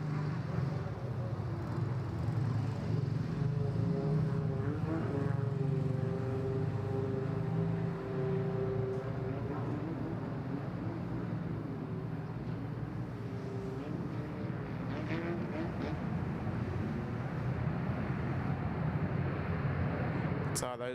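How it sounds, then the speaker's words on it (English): A low, droning engine hum rises and fades as a long, narrow motorboat passes in Bangkok, while a person talks over it throughout. "those boats that you can hear go past, they're quite long, narrow little boats"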